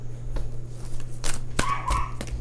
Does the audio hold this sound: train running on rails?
no